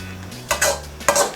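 Imitation crab, fishball and vegetables with green beans being stirred in a pan, a utensil scraping and clanking against the metal in two distinct bursts over a low background hum.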